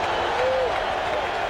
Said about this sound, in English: This crowd has reason to cheer.